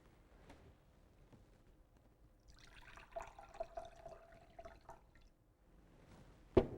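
Water poured into a measuring cup on a level surface while measuring ingredients for a Zojirushi Home Bakery Mini bread machine: a faint, trickling pour lasting a few seconds, with soft drips and light knocks around it.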